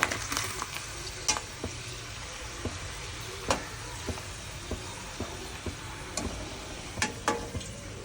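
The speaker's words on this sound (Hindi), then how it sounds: "ये फ्राई हो रहा है" Iftar snacks are half-fried in hot oil in a home kitchen, giving a steady sizzle dotted with scattered sharp pops and ticks at irregular intervals.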